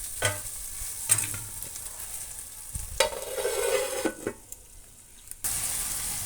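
Onions and tomatoes cooking in a pan for a Kerala-style chicken curry, with a steady close sizzle and several sharp scraping stirs of a spoon against the pan.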